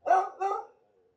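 A dog barks twice in quick succession outdoors on a Jamaican coffee plantation, two short fairly close barks that fade into a brief trailing whine.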